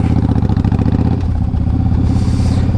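A motorcycle engine running loud and close at night as the rider heads out, a steady throbbing idle that rises slightly in pitch toward the end, with no talking.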